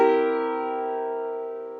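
A C dominant seventh chord struck once on a keyboard, a single sustained chord ringing out and slowly fading over about two seconds, alone and moderately soft.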